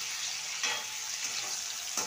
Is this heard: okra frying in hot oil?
yes